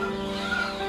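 Chickens clucking inside a coop, a continuous layered chorus of birds close by with no talking.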